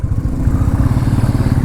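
A motorcycle running on the road, its engine a loud, close, steady low throb with a regular pulsing beat and no talk.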